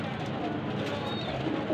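Soft, low cooing of a Golden Kamagar pigeon in Lahore against a steady background hum, fairly close and continuous.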